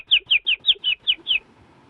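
Seven sharp, high bird chirps come in an even, rapid series, close and distinct, then give way to quiet background noise.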